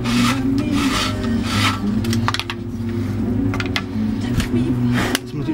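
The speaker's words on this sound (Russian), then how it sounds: "Беру рабочую фрезу и слегка наклоняю в эту сторону." Valve seat cutter working a seat on a cylinder head during a repair, giving a steady rasping, grinding scrape that runs continuously and fairly loud throughout, close to the listener.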